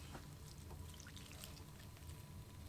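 Water is poured onto worm compost in a 10-gallon grow bag, a faint, brief trickling splash heard alone.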